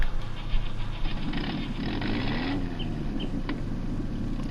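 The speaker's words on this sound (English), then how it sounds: "That popping sound in the engine startup sounds really awesome." A 1969 Lizard Pickup, a Brazilian truck in a video game, starts its engine with popping and settles into a steady, close rumble.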